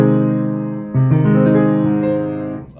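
Minor triad with its fifth raised, sounded as sustained notes: one held tone, then a clear attack near one second brings in the full chord, which rings and slowly decays, close and loud.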